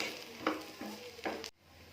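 A spoon scrapes and stirs a mashed potato and raw green banana mixture with tempering, turmeric and salt in a pan, in three brisk, close strokes with a faint sizzle, then stops abruptly.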